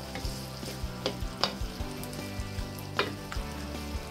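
Tomato sauce and meat sizzle in a hot pan for homemade spaghetti while a spoon stirs through them, giving a steady frying hiss broken by several sharp scraping strokes, close and fairly loud, with no talking.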